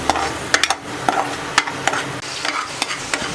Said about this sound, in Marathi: आता आपल्याला तेलामध्ये व्यवस्थित भाजून घ्यायचं आहे